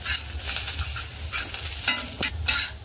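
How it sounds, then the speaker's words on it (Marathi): Dry coconut, 7-8 garlic cloves, a piece of ginger and two green chilies roasting in a pan, with steady sizzling and a few scraping stirs of a spatula, close and fairly quiet throughout. "लसणाच्या पाकळ्या 7-8, अद्रकचा एक तुकडा आहे आणि 2 हिरव्या मिरच्या, हे सुद्धा आपण छान भाजून घेऊया।"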